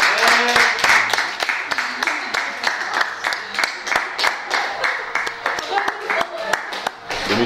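Guests clap for a couple at a vow renewal ceremony, with loud, sharp handclaps in an uneven rhythm, while voices and a few tonal sounds mix in throughout.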